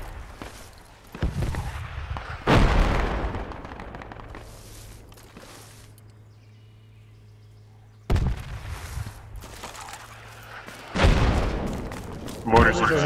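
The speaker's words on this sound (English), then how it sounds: "Mortars inbound." Mortar explosions in a military shooter land as several heavy booms, some near and loud, with quieter stretches between impacts, amid game ambience and scattered gunfire.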